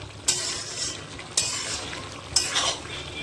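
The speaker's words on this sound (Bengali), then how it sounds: "চিকেনটা কষানো হচ্ছে" Yogurt-marinated chicken sautéing in a pan, a steady sizzle broken by three sharp scrapes of a spoon stirring at roughly one-second intervals, close and with no talking.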